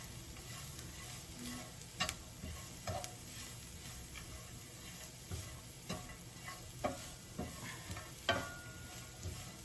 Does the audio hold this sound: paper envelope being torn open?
no